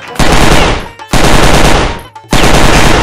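Staged gunfire in a PUBG comedy skit comes as three loud, close automatic bursts, each a rapid rattling volley, with brief gaps between them.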